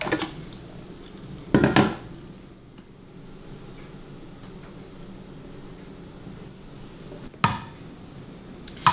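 Almond butter is scraped out of a Vitamix blender jar, with a few short scraping and knocking bursts of a utensil against the jar separated by quiet gaps.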